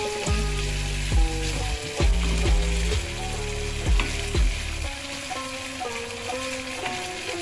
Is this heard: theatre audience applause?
no